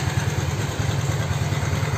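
Carbureted Honda Beat scooter engine idling steadily after a valve clearance adjustment to 0.18, a close, even low putter with a light ticking clatter from the head, no talk.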